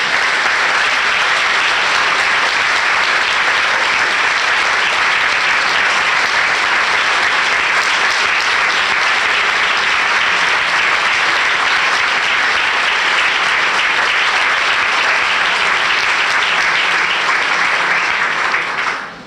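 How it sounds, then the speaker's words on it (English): Sustained audience applause fills a library hall during a renaming ceremony honoring a couple, a dense, even wash of many hands clapping at full volume for nearly twenty seconds before cutting off abruptly. "That's as much applause as anyone from Minneapolis has ever received in this building."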